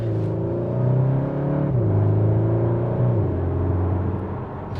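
A Cupra Formentor SUV's engine hums steadily from inside the cabin, its droning tone rising and falling as the gears shift, with no talk.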